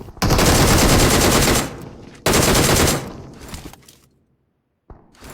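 Automatic gunfire in an online shooter video game, two loud sustained bursts of rapid shots, each lasting over a second, followed by a short sharp burst near the end.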